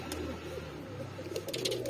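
Nesting pigeons coo softly in repeated low throaty phrases, close by and fairly faint, with a few brief higher chirps and no talk.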